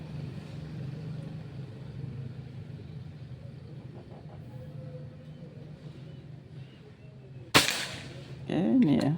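A PCP Bocap Pajero Gen 5 air gun fires one Hercules pellet, a sharp, loud crack late in the clip after steady background noise, followed by a voice speaking.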